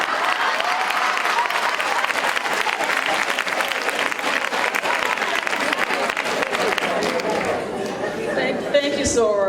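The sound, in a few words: applause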